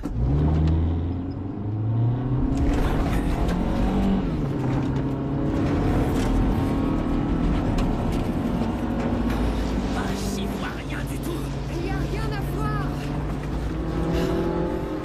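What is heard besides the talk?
car driving fast on a road in a horror film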